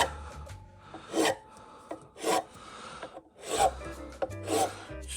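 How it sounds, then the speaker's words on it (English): A cheap chainsaw file rasping against a resin pen blank in four or five distinct scraping strokes with short pauses between them, close and fairly loud. "this is just a chainsaw file, cheap chainsaw file you get at Tractor Supply"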